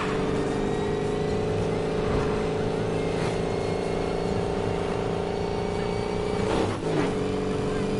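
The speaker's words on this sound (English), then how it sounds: "Engines are revving." Boat engines revving steadily near a bridge during a race, a loud sustained drone with harmonic tones and small swells of acceleration throughout.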